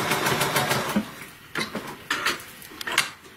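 Sewing machine stitching shut the opening of a Christmas stocking, with a fast mechanical whir followed by short stop-start bursts of stitching, close and moderately quiet.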